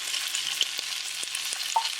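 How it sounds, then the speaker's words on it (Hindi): Fifteen to twenty curry leaves and three spoonfuls of ground coconut fry in a pan for idli sambar, giving a steady close sizzle with a few soft stirring knocks throughout. "अभी इसको हम अच्छे से फ्राई करेंगे।"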